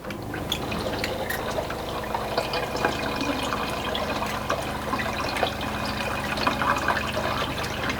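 A pump forces water through a faucet supply line, producing a steady rushing, gurgling flow with scattered drips and splashes that holds even throughout.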